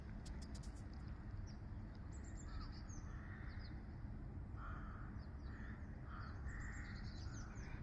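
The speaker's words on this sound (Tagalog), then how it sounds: "Daming uwak." Many crows cawing at a beach area, several calls overlapping at middle distance over a steady roar of wind or surf, with occasional louder caws standing out.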